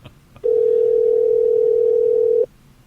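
An outgoing telephone call rings out as one steady, loud electronic tone lasting about two seconds, close and alone, then cuts off.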